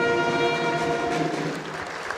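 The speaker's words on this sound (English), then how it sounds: "Tioga High School Pep Band getting a nice round of applause here" Crowd at a high school boys basketball game in Tioga, North Dakota applauding the Tioga High School Pep Band, a brief wash of clapping with lingering tonal sound from the band fading beneath it.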